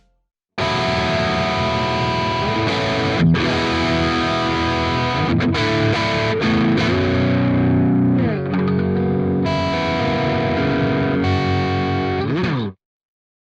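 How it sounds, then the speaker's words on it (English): An electric guitar plays chords and sustained notes through a shimmering Plini Chorus effect with some distortion, ringing out continuously for several seconds before stopping. "I'm going to choose the Plini Chorus"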